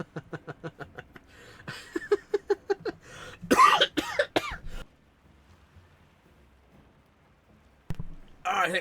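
A person coughs in a rapid rhythmic burst of short, loud hacks, followed by rougher throat sounds and a pause into near silence, with a brief noise returning at the end.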